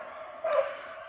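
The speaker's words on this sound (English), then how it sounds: "Sorry about the dog barking." A dog barks once, briefly and fairly close, in a quiet outdoor setting beside a 1979 Cadillac Phaeton being worked on.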